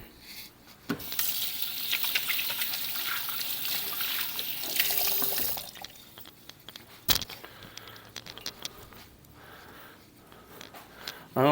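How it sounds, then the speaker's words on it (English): A kitchen tap runs as fingers are rinsed while making a cordon bleu meatloaf, a close, steady hiss of flowing water lasting several seconds before cutting off, followed by quieter handling noises. "let me rinse my fingers off again"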